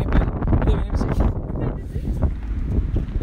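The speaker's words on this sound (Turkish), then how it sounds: "Rüzgar var. Saçım başım dağılıyor." Wind buffets the microphone in a heavy, continuous low rumble outdoors beside a BMW 118i, with muffled sounds beneath it.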